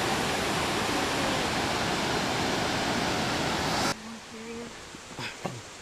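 Loud, steady rush of a tumbling river at Carters Lake fills the first four seconds, then cuts abruptly to quieter surroundings with scattered brief sounds.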